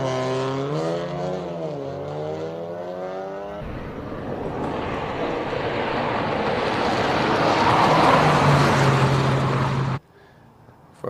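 A 3-cylinder car climbs the Simola hill climb, its engine note rising through stepped gear changes before a broad, roaring pass close by that builds in loudness and then cuts off abruptly, with no voices.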